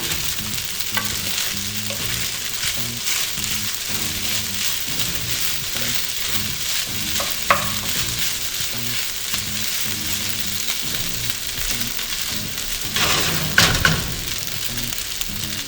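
Fried rice mixture sizzles steadily as it heats in a pan, a dense continuous hiss with occasional spoon scrapes and a louder stirring flurry near the end, no talking.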